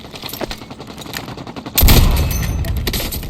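Loud burst of automatic gunfire from Call of Duty Mobile erupts partway through, a dense rattling fusillade after quieter game noise, with no talk over it.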